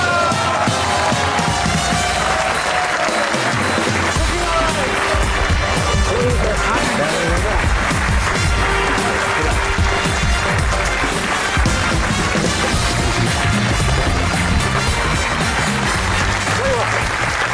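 An audience bursts into loud, sustained applause and cheering for Pakistani former fast bowler Waqar Younis at a live comedy show taping. The clapping is dense and steady throughout, with crowd noise mixed in.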